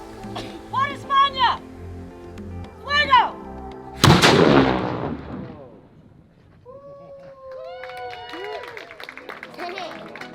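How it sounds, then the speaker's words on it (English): During a live historic demonstration in St. Augustine, Florida, a cannon fires with one loud booming blast, after talk and before crowd murmur and voices take over as the echo dies away. "And you can even see a live cannon firing."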